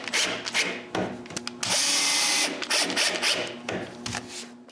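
Power drill driving screws into the back of a solid pine pantry, a run of short whirring bursts with one longer sustained drive in the middle, close and loud, with small knocks between.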